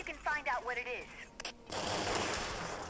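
A gunshot from the strategy video game Code Name S.T.E.A.M.: a brief synthetic voice line, a sharp crack, then a loud sustained burst of noise that carries on to the end, with no pause.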